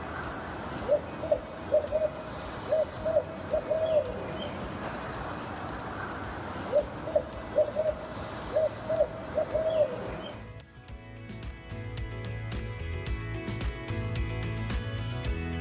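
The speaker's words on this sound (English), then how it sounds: "barred owls are pretty unique that they do call during the day" Two barred owls hoot back and forth in a big-tree forest preserve during the day, rhythmic calls in clustered bursts from close by, followed by a steady hum of other ambience.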